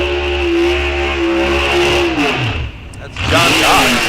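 Drag car at an NHRA raceway staging a burnout, a loud steady engine drone that climbs and sweeps in pitch as revs rise, under a commentator talking.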